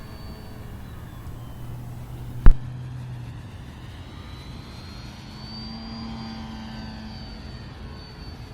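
A ParkZone Albatros D.Va RC model airplane drones steadily in flight, its motor whine shifting slowly in pitch as it passes, with one sharp thump partway through.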